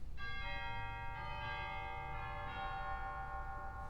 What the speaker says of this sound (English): We also have a set of real chimes down there in the bottom of the grate.